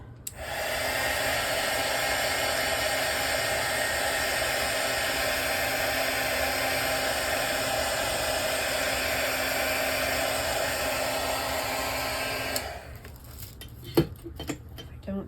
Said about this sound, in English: I'm going to use my heat gun just for a second.